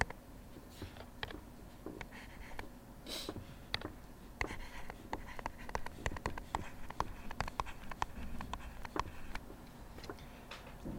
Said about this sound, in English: I can write that down